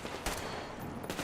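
A few sharp gunshots crack out in Metro Exodus, two or three brief reports spaced apart over a low background rumble, moderately near.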